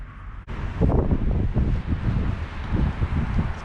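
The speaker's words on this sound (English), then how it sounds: "the wind keeps changing directions" Gusty wind buffets the microphone outdoors at a retention pond. A loud low rumble swells and fades in uneven bursts after a brief click near the start.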